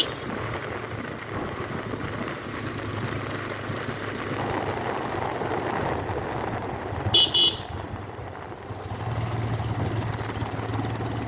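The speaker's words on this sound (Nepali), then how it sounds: "घुम्टी मोड्नभन्दा अगाडि हर्न दिनुपर्छ" A vehicle horn sounds in two short, close toots before a bend on a mountain ride, over a steady engine drone and road noise.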